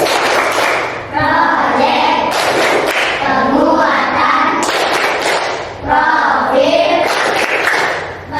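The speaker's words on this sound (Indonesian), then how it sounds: "Kita buat ice breaking, yaitu tepuk P5." A school class chants the tepuk P5 clapping routine together, children's voices in loud unison over a steady beat of hand claps and thuds, close and continuous.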